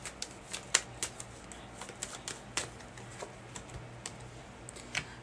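Tarot cards shuffled close by and quietly, a run of light, crisp riffling clicks and flutters in an irregular rhythm with no talk.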